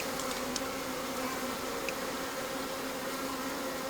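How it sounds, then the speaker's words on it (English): A swarm of honey bees buzzes steadily in a dense drone, clustered on tree branches during beekeeping, the hum constant and fairly close throughout with no voices. "the queen will usually be in the last bundle of bees that's on the branches"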